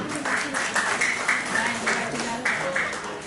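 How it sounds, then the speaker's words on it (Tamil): A family crowd applauds at a 70th birthday party, giving a continuous, fairly loud patter of hand claps with voices talking and calling out over it. "ஓகே அவங்களுக்காக ஒரு பலத்த கைத்தட்டல்."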